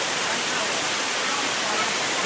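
Than Thong waterfall at Ban Nam Lad, Khiri Rat Nikhom, Surat Thani, Thailand: a steady, dense rush of falling water, loud and unbroken across the whole moment with no other sounds standing out.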